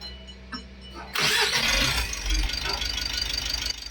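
A Mitsubishi L300 Euro 4 van cranks and catches after a quiet second, bursting into a loud start and then settling to a steady close rumbling idle, with faint voices around.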